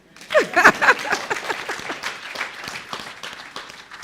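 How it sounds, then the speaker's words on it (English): Enthusiastic applause from a crowd, loud at first with dense overlapping claps, then tapering off into scattered, lighter clapping. "you can clap for that"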